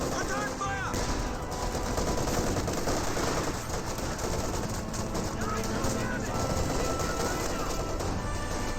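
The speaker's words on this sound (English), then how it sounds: "50 cal does get some good suppression there onto the Lieutenant." Machine gun fire rattles in the Company of Heroes 2 battle, including a .50 cal and an MG-34, with dense continuous bursts and scattered gunshots under a commentator's voice.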